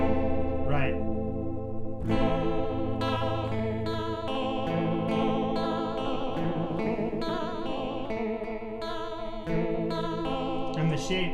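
Chorus-style pitch modulation from an effects unit applied to a sustained instrument tone, giving a wavering, shimmering warble with rhythmic plucked attacks, loud and continuous with no talking.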